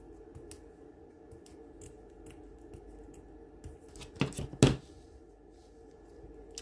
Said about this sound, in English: I'm just going to just snip up just the edges of this little bow.